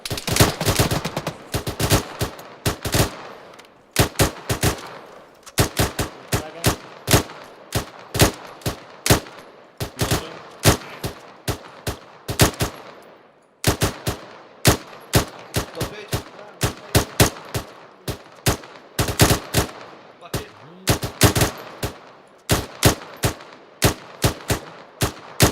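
Rapid rifle and machine gun fire in the military game ArmA 3, sharp close cracks in dense, irregular volleys repeating steadily over nearly half a minute, with brief pauses between bursts and no talking.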